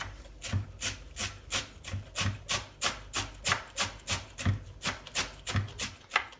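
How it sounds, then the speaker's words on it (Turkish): A knife finely chops dill and parsley on a cutting board, a steady, brisk run of close, even thuds repeating about three times a second with no pauses. "Şu iki yeşilliği hemen mümkün olduğunca ince doğruyorum."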